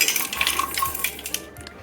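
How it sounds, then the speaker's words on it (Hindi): Small hard pieces of crystallized sugar candy clatter and clink into a mixer grinder jar, a rapid scatter of light knocks and rattles lasting a couple of seconds, close by. "अब इस मिश्री को इसी मिक्सी के जार में डाल देते हैं।"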